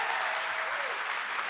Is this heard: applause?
yes